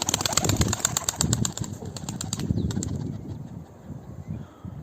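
A tumbler pigeon flaps its wings close by in rapid repeated bursts during a training flight at the loft, with faint bird calls in the background.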